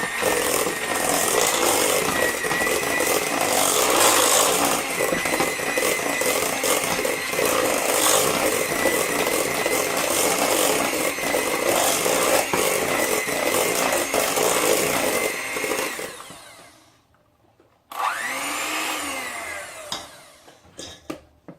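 Electric hand mixer beaters whirring through ginger cookie dough with molasses, a loud steady motor drone for about fifteen seconds that winds down, then a short second burst of mixing.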